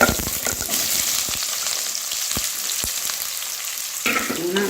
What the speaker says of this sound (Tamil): இப்போ இது ஃப்ரை ஆகிட்டே